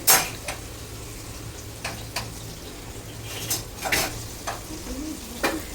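Spices are being fried and stirred in a pot, a low steady sizzle with several sharp clinks and scrapes of a utensil against cookware, close by with no talking.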